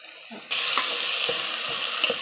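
Ginger garlic paste sizzles loudly in hot oil with fried onions in a pan, a steady bright crackle beginning abruptly, with a few soft stirring scrapes underneath.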